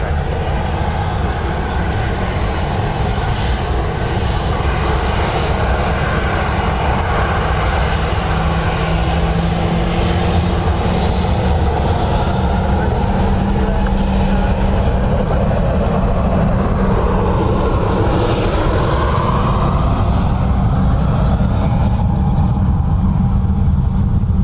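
A KLM airliner at Dublin Airport gives a loud, sustained jet-engine roar with a dense low rumble, holding steady for the whole stretch, with a brief whine rising near the end and no voices over it.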